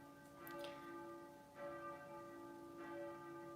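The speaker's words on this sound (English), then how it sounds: "this is the church bells that you're hearing" Church bells ringing with repeated strikes about every second and a half, each leaving a long humming tone that lingers and overlaps, heard alone at a modest distance.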